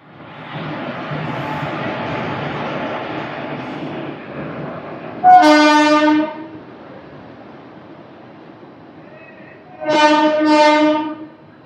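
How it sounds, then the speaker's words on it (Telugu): Bikaner Superfast Express pulling away, its horn sounding loud and near in two long blasts over the steady rumble of the moving train. "మన ట్రైన్ స్టార్ట్ అయింది 11:38కి"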